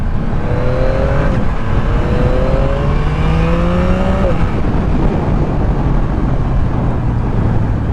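Yamaha MT-09 third-generation motorcycle engine accelerating on a test ride, loud and close, with rising tones climbing through gear changes over heavy wind rush.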